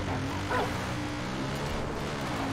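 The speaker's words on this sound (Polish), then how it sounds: "Chyba pies sobie poradzi z tą kurą" A dog in the video game Far Cry 5 gives a single short bark amid steady low background game noise, near a chicken.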